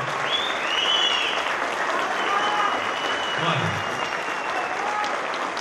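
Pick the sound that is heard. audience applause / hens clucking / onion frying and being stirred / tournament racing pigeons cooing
audience applause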